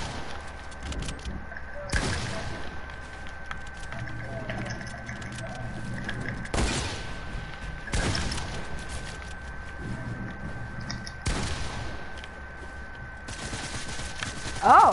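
Video game gunfire with an SMG, periodic sharp bursts over a steady background hum, moderately loud and evenly spaced.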